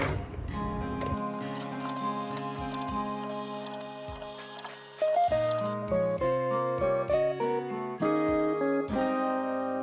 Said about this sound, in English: And now it does its magic.